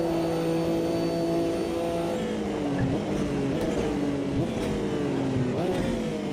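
Group C race car flat out around Suzuka in Automobilista 2, engine wailing loud and steady with several upshifts as the pitch climbs, drops and climbs again.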